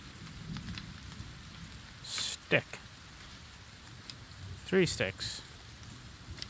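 Steady rain hiss falls across the island in the survival game The Forest, a soft constant wash, while someone speaks briefly twice over it.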